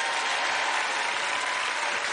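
A studio audience on a French game show applauds a champion after a sock boxing bout, a loud, even, continuous wash of clapping with no break.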